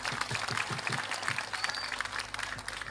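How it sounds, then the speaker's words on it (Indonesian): Audience at a motivational talk clapping in honour of parents, a brief spell of scattered, fairly close handclaps with some crowd murmur beneath. "Tepuk tangan buat ayah ibu kita."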